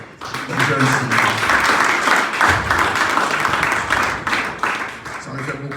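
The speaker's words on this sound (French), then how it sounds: "je vous demande de l'applaudir" An audience at a football club's fiftieth anniversary Mass gives steady, fairly loud clapping for several seconds, with brief talk at the start and end.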